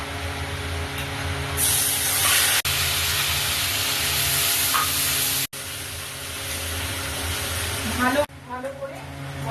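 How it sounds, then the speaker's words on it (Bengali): Ground mustard and poppy seed spice paste dropped into hot oil for a Bengali fish curry, sizzling and hissing loudly and steadily, with brief breaks and a voice speaking quietly underneath. "তেল গরম হয়ে গেছে এখন এই সিলেবাটা মশলাটা দিয়ে দেবো"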